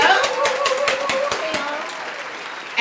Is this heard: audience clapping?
yes